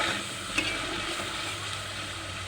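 Onion paste frying in a pan gives a steady, even sizzle with a faint hiss throughout and one brief clink midway; no talking.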